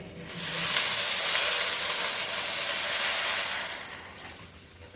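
Water is poured into a hot pan while cooking a banana flower dish, setting off a loud, sustained steam hiss that swells, dips slightly, and fades toward the end.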